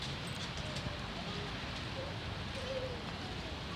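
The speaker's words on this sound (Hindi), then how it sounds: "बारिश तेज़ होने लगा।" Steady rain falls outdoors in hot weather, a dense continuous hiss filling the whole stretch at an even, moderate level with no clear change in strength.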